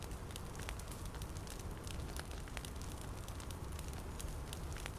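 Campfire crackling in the survival video game The Forest, a steady bed of soft noise scattered with small sharp pops, moderately faint and continuous with no talking.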